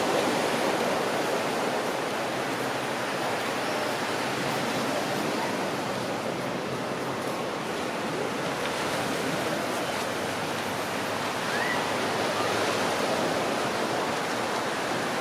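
Steady broadband wash of surf rolling onto North Beach in Mazatlan on a Sunday morning, continuous and fairly loud with no distinct breaks or voices.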